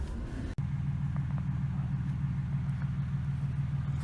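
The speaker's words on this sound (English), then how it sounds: "Got the 1-ton diesel and the gooseneck trailer on deck here." A one-ton diesel truck hitched to a gooseneck trailer runs with a steady, loud low engine rumble close by, broken by one brief dropout early on, with no talking.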